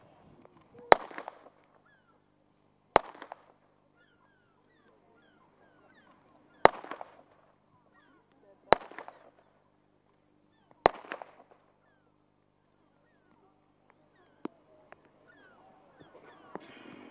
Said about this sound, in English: The order has now been given to load the pistol.